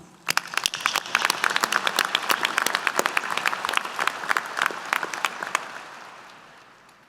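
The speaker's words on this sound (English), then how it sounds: "Please give them a round of applause." Audience applause for military graduates at a university commencement, many people clapping in a dense, loud burst that holds steady and then fades near the end.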